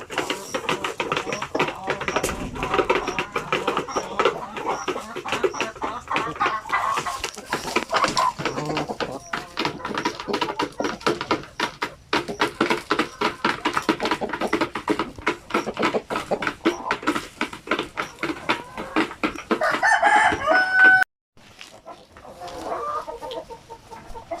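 Dense clucking from a flock of chickens, including black hens, with scattered calls and some talk, continuous and fairly loud before a short break near the end.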